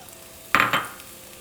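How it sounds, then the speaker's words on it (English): Onion goes into hot oil in a pan on medium-high heat with a sudden loud hiss and clatter, which then fades into a soft sizzle. No one talks. "Once hot, we're going to add 1 onion"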